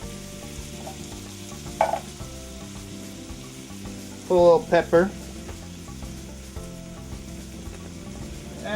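Two cans of mushrooms fry in a pan with a continuous close sizzle, broken by a short clatter and a few brief utensil or seasoning sounds, while a voice speaks briefly.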